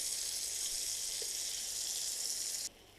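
Tomatoes frying in a pan, a steady close hiss of sizzling oil that runs evenly and then drops off abruptly near the end.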